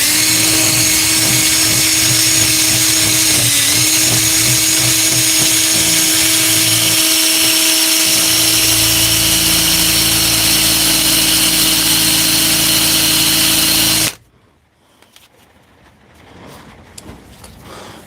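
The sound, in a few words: drill running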